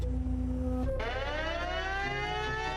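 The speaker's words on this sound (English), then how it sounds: "When the sirens began blaring at the Russian Black Sea Fleet Command Center in Sevastopol" Air raid sirens wail at the Russian Black Sea Fleet Command Center in Sevastopol, Crimea. After a low hum, a loud siren kicks in about a second later with a rising, sustained tone that holds steady to the end.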